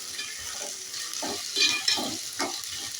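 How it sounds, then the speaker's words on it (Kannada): Vegetables fry in a pan for khara bath, a loud crackling sizzle broken up by repeated scraping stirs in an uneven rhythm, with no voices. "ನೋಡಿ ಈಗ ತರಕಾರಿನೂ ಸ್ವಲ್ಪ ಫ್ರೈ ಆಗಿದೆ"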